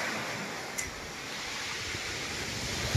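Sea waves at high tide on a shore where fishermen are casting lines, heard as a steady, loud, hissing wash of surf with no distinct breaks.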